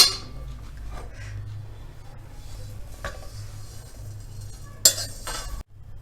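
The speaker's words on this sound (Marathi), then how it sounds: "आता धने भाजून घ्यायचे धने तीन मोठे चमचे म्हणजेच पंधरा ग्रॅम आहेत ते आपल्याला भाजून घ्यायचे आहेत" Three tablespoons of coriander seeds dry roast in a pan, with a light rattle of seeds and repeated scraping and clinking of a metal spoon against the pan, ending in a sharp clatter.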